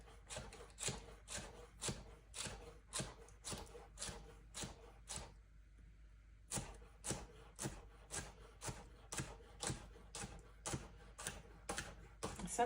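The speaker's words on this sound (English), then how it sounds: "grab my napkin and my washed cherry tomatoes and use our cut slicer on those" Washed cherry tomatoes are cut with a kitchen slicer, giving a steady run of crisp, close, evenly spaced clicks and chops, with a short pause in the middle.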